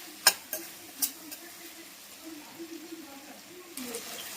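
Ridge gourd curry is stirred in a pan with a few sharp spoon taps at the start, then quiet scraping and a faint low simmer.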